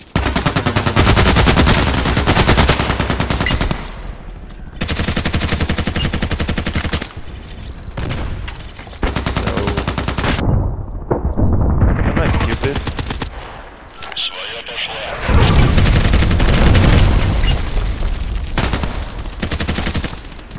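Rapid automatic fire from an AK-12 assault rifle in the shooter Contract Wars crackles in loud, sustained bursts separated by short pauses, close and dominant throughout.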